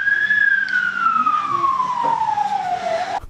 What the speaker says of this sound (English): Sounds like the police are responding.